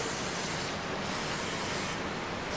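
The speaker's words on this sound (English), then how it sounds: "So we're going to take the carburetor cleaner and just try not to get it onto the gasket." A light spray of carburetor cleaner hisses into a motorcycle float bowl, a close, steady broadband aerosol hiss that runs unbroken for the whole stretch, with no voices.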